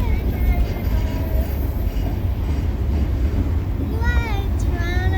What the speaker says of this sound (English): There's a big train.